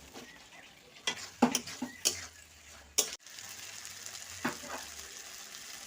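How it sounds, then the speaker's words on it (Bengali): Potatoes and pointed gourd tossed into spice paste in a hot pan: a soft sizzle runs beneath several sharp clinks and scrapes of a utensil against the pan, close and fairly quiet, with no speech. "আমি ওর মধ্যে কষে রাখা আলু আর পটলগুলো একসঙ্গে দিয়ে দেব"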